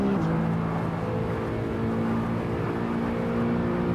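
In Assetto Corsa, a BMW E92 M3's engine drones loudly and steadily, a sustained close rumble with stacked tonal harmonics that step down slightly early on, then hold without pause.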